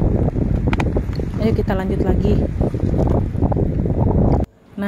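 Strong wind buffets the microphone at the seashore at low tide during octopus hunting, a loud rushing roar under ongoing talk that briefly drops out near the end.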